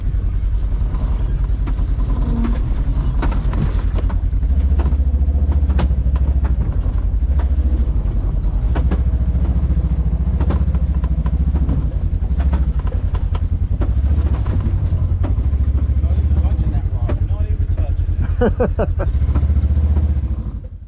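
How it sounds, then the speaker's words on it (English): A Polaris RZR 900 side-by-side on portals and 35-inch tires descends a wet trail, its engine rumbling loud and steady while the dual-rate shock springs creak and clatter; someone speaks briefly over it. "The spring divider is rubbing against the threaded part of the shock body, causing that strange springy sound."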